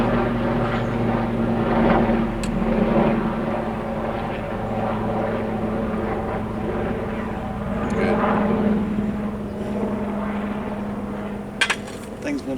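A helicopter flies overhead outdoors, its loud, continuous rotor and engine drone swelling and fading across the clip, with a few faint voices underneath.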